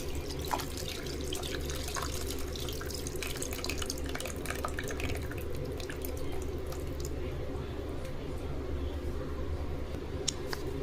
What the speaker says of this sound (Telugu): ఇప్పుడు పులుసు పోసుకోవాలి.